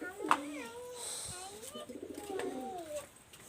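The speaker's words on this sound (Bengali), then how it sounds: "নীলদুম্বা কবুতর যাদের পছন্দ তারা স্ক্রিনে দেওয়া নম্বরে যোগাযোগ করতে পারেন।" Nildumba pigeons give low, rolling coos in a few repeated phrases, fairly close and soft, with a voice faintly present alongside.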